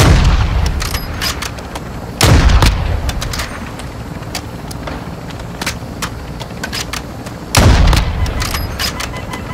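Gunfire rattles in a video game firefight, steady sharp cracks with two heavy booming shots standing out loud over continuous crackling combat noise, no talk.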